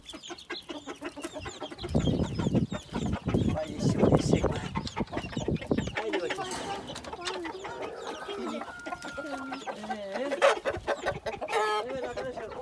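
Hint roosters and chicks cluck and squawk while pecking at a feast of eggs, busy overlapping fowl calls close by, with people talking over them at times.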